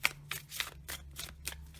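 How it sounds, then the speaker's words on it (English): Tarot cards being shuffled by hand, a series of quick papery riffles in a steady rhythm, close and clear with no talking. "So let's get these shuffled."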